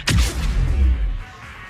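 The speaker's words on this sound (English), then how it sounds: "Just following the gunfire." Gunfire in the Mass Effect 3 video game, a single loud booming shot with a rumbling tail that fades over about a second, heard alone.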